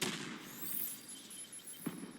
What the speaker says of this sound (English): You can see we're shooting those little cannons.